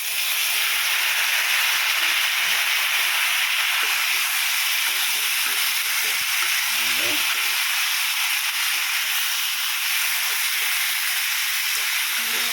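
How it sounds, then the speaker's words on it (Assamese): Boiled potatoes and chickpeas tipped into a hot frying pan set off a loud, continuous sizzling hiss that holds steady throughout without pause. "এতিয়া বইল কৰি ৰখা অমিতা, আলু, বুটখিনি ইয়াতে ঢালি দিম।"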